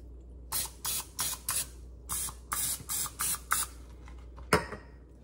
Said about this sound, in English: All right, spray it down